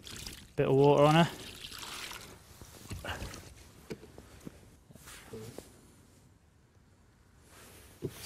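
Water splashes and pours briefly over a large golden common carp on the bank, a short loud gush followed by faint trickles, handling noises and quiet talk.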